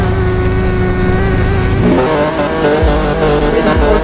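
Racing cars in the Midnight Racing video game, Lamborghinis and a Ferrari against a Toyota Supra, with loud continuous engine drone that shifts pitch as gears change, plus tire squeal, close and constant throughout.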